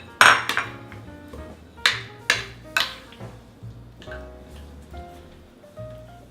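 A metal spoon strikes and scrapes a bowl while ricotta filling is mixed with fresh parsley, giving several bright clinks at uneven intervals and then quieter scraping.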